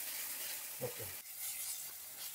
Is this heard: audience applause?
no